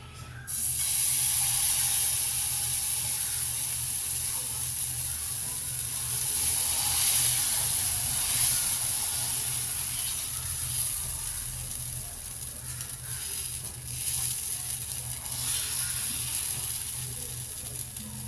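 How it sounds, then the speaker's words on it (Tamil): Wheat and onion dosa batter poured onto a cloth-oiled hot griddle gives a loud, continuous hiss and sizzle that holds steady for many seconds. "எண்ணெய் துணியால் தேய்ச்சாச்சு இப்போ தோசை ஊற்றிக்கலாம்"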